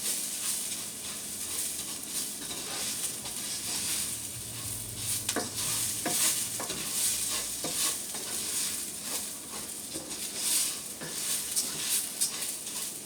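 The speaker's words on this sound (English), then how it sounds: "You want to keep on stirring because now that you've added those herbs, you don't want to burn them." Rice fries with herbs in a pan on medium-high heat, giving a continuous soft sizzle with light scraping and clinks from stirring throughout.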